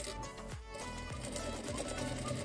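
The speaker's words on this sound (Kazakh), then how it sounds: "Ол үшін екі бетін бір-біріне қаратып, осы жерден 1 сантиметр тігіс түсіретін боламыз." A sewing machine stitches a seam along a fabric napkin runner, a close, rapid mechanical clatter running in a steady rhythm with a brief slowdown partway through.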